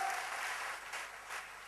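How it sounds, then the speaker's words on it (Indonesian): A church congregation claps together, a soft steady wash of many hands heard from a distance, brief and even, with no voices. "Berikan tepuk tangan buat Tuhan."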